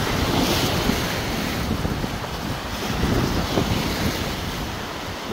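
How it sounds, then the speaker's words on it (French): Sea waves washing onto a beach on a fine sunny day, a steady broad roar of surf with gusty wind buffeting the microphone throughout, no voices. "le but c'est de vous montrer la mer"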